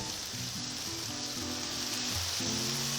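Heart-shaped steaks sizzle on a Blackstone 28-inch griddle, a steady close hiss of frying fat with faint low crackles running through the whole stretch and no talk.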